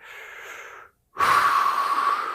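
A person breathes deeply, one long airy inhale, a brief pause, then a strong, breathy exhale that stays loud close to the microphone.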